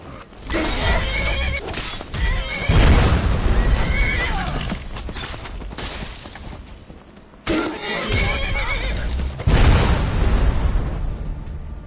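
A horse in the Skyrim video game whinnies loudly and close, mixed with clip-clop hoofbeats and booming fireball explosions, with two bursts of neighing separated by a brief lull.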